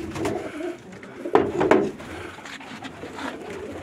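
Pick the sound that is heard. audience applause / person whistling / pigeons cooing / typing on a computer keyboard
pigeons cooing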